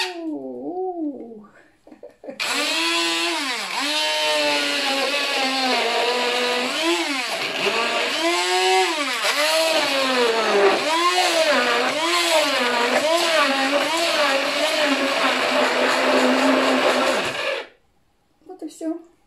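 A blender purees fresh strawberries in one long, loud whir of about fifteen seconds, with the motor pitch swelling and dipping. It starts and cuts off sharply, and someone speaks briefly before it.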